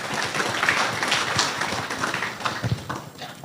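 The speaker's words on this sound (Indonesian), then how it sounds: "Beri tepuk tangan dulu ini." Audience applause at a public lecture in an Indonesian training centre hall, a dense steady patter of many hands clapping, moderately loud and sustained throughout.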